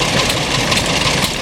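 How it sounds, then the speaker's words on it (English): A loud vintage engine runs steadily up close at a vintage engine rally, a dense rumbling chug with a rough mechanical texture and no talking. "Here's a close-up of the engine working."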